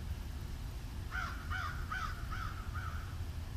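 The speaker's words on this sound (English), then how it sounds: "Sound like a crow." A crow caws five times in an even rhythm. The calls are clear and fairly near, over a steady low rumble of background noise.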